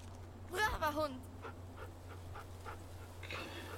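A dog in the video game The Walking Dead pants in quick, soft, rhythmic breaths after a brief whine, close but faint over a low steady hum.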